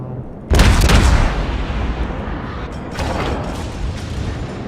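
A warship's main battery guns firing in World of Warships, with one deep, booming salvo that rolls off into a lingering rumble, followed by a softer second report a couple of seconds later.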